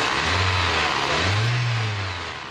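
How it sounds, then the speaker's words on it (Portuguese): Ethanol-fuelled car engine revving in two low rising surges over a steady broadband roar, loud and close with no voices. "o motor pega com facilidade"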